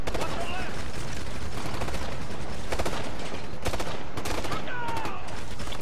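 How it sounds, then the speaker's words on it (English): Heavy gunfire from Ghost Recon: Future Soldier, dense bursts of automatic fire and shots rattling continuously throughout with loud overlapping volleys. "Who is shooting me"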